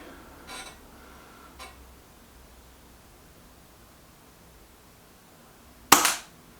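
A single sharp air rifle shot from a Reximex Mito S cracks out near the end, loud and close, after a couple of faint clicks and a quiet pause.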